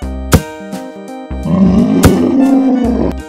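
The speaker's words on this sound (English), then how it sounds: "Tiger." A tiger roar, one sustained deep growling blast rising midway and holding for over a second, loud over a bouncy children's melody.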